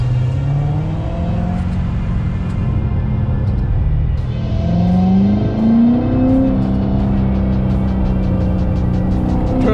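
A car on a test drive with newly fitted wheel spacers accelerates and shifts through gears, its engine note rising and falling loudly and close, with road rumble and no talk.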